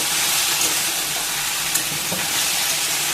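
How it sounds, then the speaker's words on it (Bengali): Spice paste with chilli powder and four green chillies fries hard for a taro curry, a loud dense sizzle with occasional clinks and scrapes as it is stirred in the pan. "এবার একসাথে নাড়াচাড়া করে নেব। মশলাটাকে একটু কষিয়ে নেব।"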